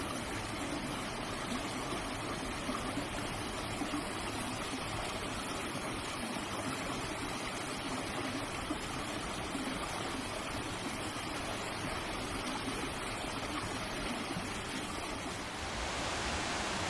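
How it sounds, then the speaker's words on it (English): Mountain streams of fresh water feeding a river in a lush green northern Spain forest, a steady broadband rush that runs unbroken and fairly loud throughout, easing slightly in the final seconds. "Countless streams flow into the river, feeding it with fresh mountain water."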